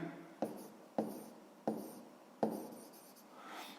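Pen on paper, heard close up in a quiet room as four short, distinct scratchy strokes in an irregular rhythm.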